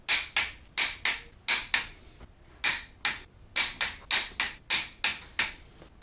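Torque wrench tightening cylinder head bolts on a VW VR6 engine, a series of sharp, close clicks that come in quick pairs and short runs with brief pauses between, no talking.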